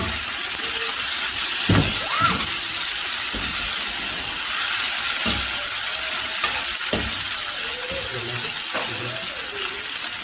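Lamb frying in hot Chinese cooking oil, a steady broadband sizzle filling the whole stretch with occasional bursts of stirring and clatter, close and loud, with no voices.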